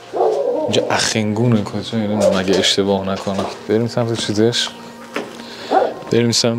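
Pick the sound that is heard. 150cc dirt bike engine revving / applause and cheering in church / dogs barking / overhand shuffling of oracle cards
dogs barking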